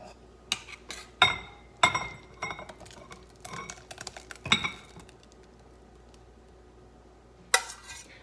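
Cranberry sauce being moved from a pot into a bowl in a kitchen, with scattered sharp clinks and scrapes of a utensil against cookware, several close taps in a row, then a pause before one last clink.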